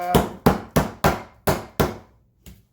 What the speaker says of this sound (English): And I'm going to hammer it out.